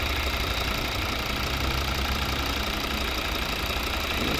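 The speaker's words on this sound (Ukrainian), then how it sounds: "Ось робота двигуна." A 2013 Volvo V60 2.0 D4 diesel with automatic gearbox idles steadily, a continuous close engine drone with a faint knocking clatter and no speech over it.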